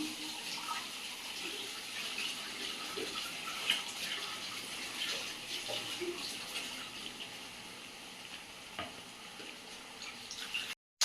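Tap water runs steadily at a sink while a cooking pan is rinsed in a home kitchen, a continuous close splashing hiss with small clinks, ending abruptly.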